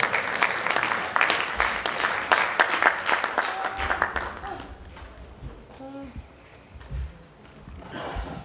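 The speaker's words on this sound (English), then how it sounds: "a round of applause for him again" Dense audience applause fills a workshop hall for about four seconds, then fades out, leaving quiet room noise, a few stray sounds and a voice.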